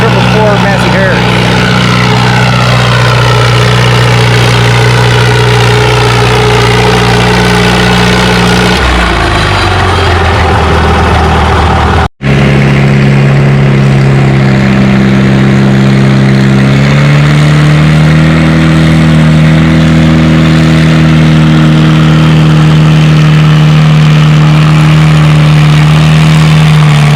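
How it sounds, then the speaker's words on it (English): A Massey Harris 444 tractor at a tractor pull, its engine roaring loud and close under heavy load, dropping in pitch partway through and then climbing again, with an announcer's voice over it. "Up first, 2023 St. Jude's giveaway tractor with Peoples, the 444 Massey Harris."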